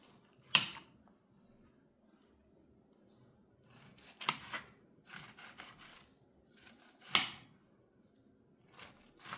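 A knife cuts tough skin off a yellow ox heart tomato, giving a few sharp, close crunching snips with softer scraping and rubbing in between, quiet and with no voices.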